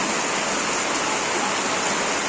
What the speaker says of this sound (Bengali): এত জোরে বৃষ্টি হচ্ছে বলার কথা না